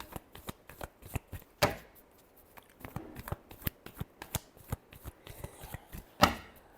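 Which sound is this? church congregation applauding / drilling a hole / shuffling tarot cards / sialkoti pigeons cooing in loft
shuffling tarot cards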